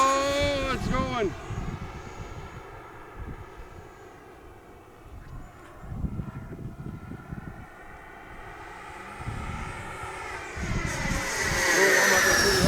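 An RC jet, a Havoc Xe, flies overhead with a rising and falling turbine whine that swells loud near the end, while people talk excitedly throughout.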